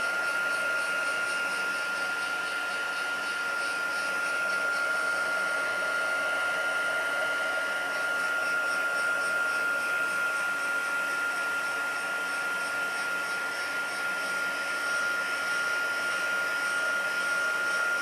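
Heat gun blowing hot air to melt embossing powder on a craft background, a steady close whirring blast with a constant high whine running throughout, no talk.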